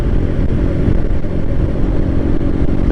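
A BMW R nineT motorcycle engine runs steadily and loud for the whole stretch, a dense low rumble with no pauses and no voices.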